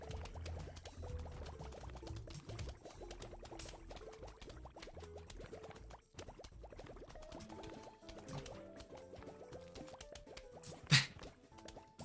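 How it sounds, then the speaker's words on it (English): Rapid bubbling and dripping liquid sounds, busy and continuous, with a quick plop near the end, playing steadily at moderate volume with no talking. "All the bubbling sounds, it sounds like a college dorm room."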